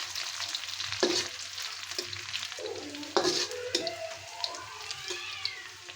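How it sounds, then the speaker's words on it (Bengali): Chopped onion and garlic sizzling in hot oil for a tempering for thin chickpea-lentil khichuri, a steady fry punctuated by a few stirring clinks and scrapes, close and moderately loud. "আমি এখন পেঁয়াজ আর রসুন কুচি দিয়ে দিব"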